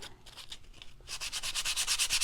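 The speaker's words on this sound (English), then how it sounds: "It sands heavier and adds a little bit more distressed." Painted wood craft pieces are hand-sanded to distress them, with close, rhythmic rubbing strokes that start lighter and turn faster and heavier in the second half.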